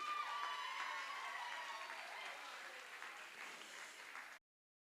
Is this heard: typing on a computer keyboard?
no